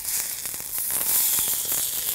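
Boneless chicken leg meat sizzles steadily in a hot saj pan, a continuous crackling hiss with small pops throughout.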